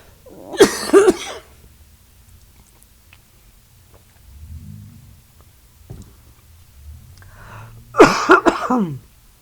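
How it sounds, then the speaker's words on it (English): Two loud, close coughing fits several seconds apart, with only faint murmuring in the quiet between them. "Got a cough."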